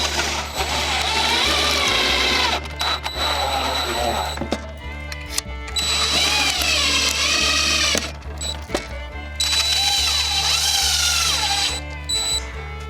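A power drill drives fasteners to secure an automatic chicken coop door, whirring loudly and steadily in three long runs separated by brief pauses, close to the listener.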